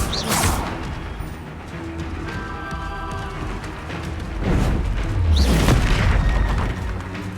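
Incendio fire spell cast in the video game Hogwarts Legacy: two loud booming bursts of fire, one at the start and a heavier one later, with a rumbling whoosh between them.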